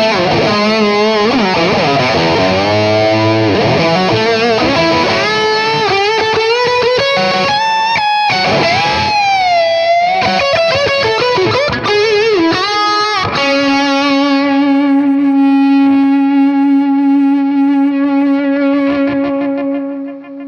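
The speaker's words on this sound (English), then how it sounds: "So now here's the tube screamer on front of that" A vintage Ibanez TS-808 Tube Screamer, gain set about halfway, drives an electric guitar lead channel. Bent, sliding lead lines and fast phrases ring out loud and unaccompanied, then settle into a long sustained held note.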